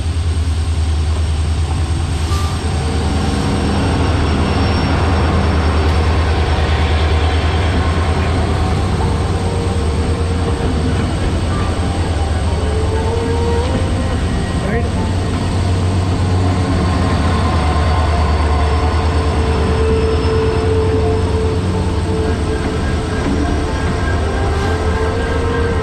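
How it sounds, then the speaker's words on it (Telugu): A train runs along the railway route to Dudhsagar waterfall in Goa, a loud, continuous, close rumble with rattling wheels and a low drone that holds steady for the whole span. "అప్పుడప్పుడు ఇట్లా ట్రైన్లు కూడా వస్తుంటాయి."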